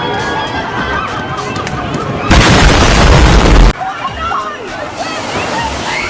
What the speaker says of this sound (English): Just look how high this wave goes.